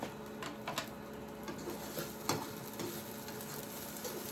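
Bacon and onion fry in a hot pan on a stove's boiling plate, a soft continuous sizzle with small crackles and occasional utensil taps, fairly quiet and without talk.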